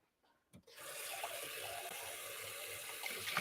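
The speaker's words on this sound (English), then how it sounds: "instead I just poured hot espresso in it" Hot espresso poured into an ice-cold glass while making a caramel latte, a steady close liquid pour that starts abruptly after a brief clink and runs continuously to the end.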